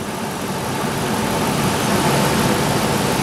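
A car engine idles during an idle air control valve test, a loud continuous close-up engine drone that swells slightly as the revs climb smoothly.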